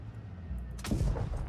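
A single heavy tank cannon blast in World of Tanks Blitz booms out partway through, loud and sharp, with a rumbling tail fading after it.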